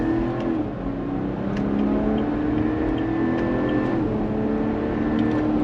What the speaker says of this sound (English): But let's go on throttle.